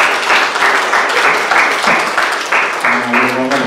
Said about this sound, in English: I will give another clap offering for God this morning.